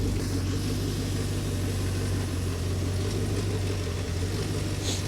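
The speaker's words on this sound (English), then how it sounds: "Engine running quiet and smooth from the front too." 1985 Land Rover Defender D90 resto-mod with a V8 engine idles smoothly and steadily, a constant low rumble heard at moderate distance with no revving.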